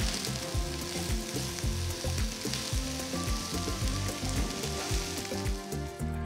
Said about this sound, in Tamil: வெங்காயம் சேர்த்து 2-3 நிமிஷம் நல்லா வதக்கிக்கலாம்